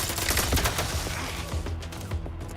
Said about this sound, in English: this gun specifically I'm using has the worst recoil